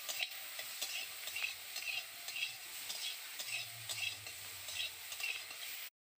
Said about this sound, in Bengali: এবার গুগলিগুলোকে আমি ভালো করে নেড়ে চেড়ে ভেজে নেব।